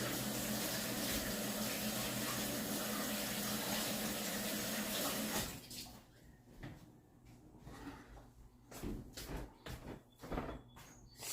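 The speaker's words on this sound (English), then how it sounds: "I'm also going to wash my hands." A kitchen sink tap runs steadily for several seconds while hands are washed, then shuts off, followed by scattered knocks and clatters nearby.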